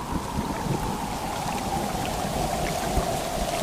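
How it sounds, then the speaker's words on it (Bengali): A thunderstorm with heavy rain gives a continuous dense roar of downpour and low rumbling, steady and loud throughout, with no voices. "সেদিন সন্ধ্যা থেকে শুরু হলো খুব ঝড় বৃষ্টি।"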